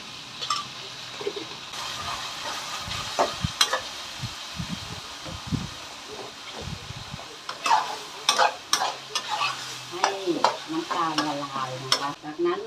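Meat being stir-fried in a pan sizzles continuously while a utensil scrapes and knocks against the metal in irregular bursts, louder and busier toward the end.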